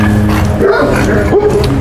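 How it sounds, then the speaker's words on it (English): A small dog barks and yips a couple of times over a steady background murmur, fairly close. "This little dog's barking"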